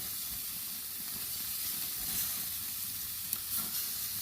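A 1 lb burger patty sizzles on a grill in a steady, close hiss of frying fat with faint crackles and a small pop near the end, with no talking.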